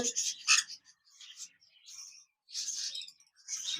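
A pair of lovebird parrots, one green and one lutino, gives thin, high chirps in scattered bursts with short pauses between, fairly close but soft, and no voices over them.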